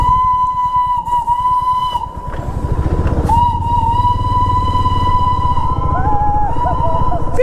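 The Darjeeling toy train sounds its whistle, a loud sustained steam-style shriek near the listener that breaks briefly and returns, wavering in pitch, over engine rumble and hiss.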